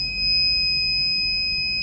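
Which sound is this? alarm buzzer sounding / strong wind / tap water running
alarm buzzer sounding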